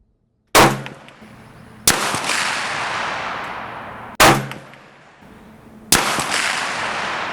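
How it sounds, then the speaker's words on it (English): Two loud rifle shots on an outdoor firing range, fired with a military surplus rifle's sight set at 400 meters, each sharp crack trailed by a long rolling echo, spaced about two seconds apart, with a second pair following. "Send 2 at the 400 meters setting."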